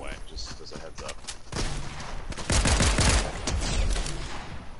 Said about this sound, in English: Someone's already shooting me before I'm even on the ground.